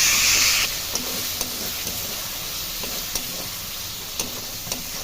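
Spices fry with ginger and garlic in a pan, giving a steady hiss that starts as a louder burst of steam and then settles into a sizzle, with light utensil clicks now and then.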